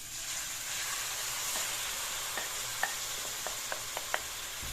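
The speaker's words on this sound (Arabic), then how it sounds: "غادي ندوز بعدا نشحر هاد البصيله مع زيت العود" Onion sautéing in olive oil, a steady close sizzle and hiss with a few faint clicks of stirring scattered through it.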